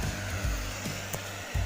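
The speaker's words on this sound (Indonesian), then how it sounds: "Kemudian keringkan rambut menggunakan hair dryer." A hair dryer blows steadily up close while drying freshly shampooed hair, a constant whooshing hum with small dips as the airflow shifts.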